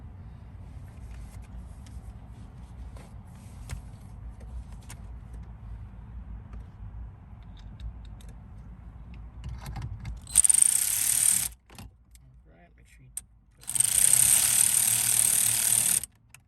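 A power driver whirs in two short, high-pitched bursts while screws go in during installation of an RCD330 CarPlay head unit in a car, over a quiet background of low rumble and light handling noises.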